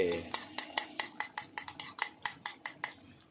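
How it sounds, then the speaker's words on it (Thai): Eggs being beaten for a fried omelette, a utensil clicking against a bowl in a fast, steady rhythm of about a dozen sharp strokes, close and clear. "เดี๋ยวเรานำไข่ไปเจียวก่อนเลยจ้า"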